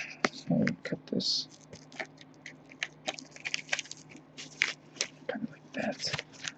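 Scissors or a blade cut open mail packaging up close, a run of crisp snips, rustles and scrapes, with a voice speaking briefly at moments.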